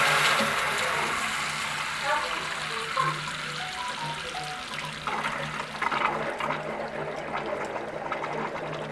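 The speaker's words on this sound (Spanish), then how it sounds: "Este es el caudal que sale ahora con el agua caliente, con la canilla en el máximo del agua caliente" A hot-water tap opened fully on a household boiler with reduced flow from scale buildup, rushing water splashing steadily into a sink, loud at first and thinning slightly, with someone talking over it.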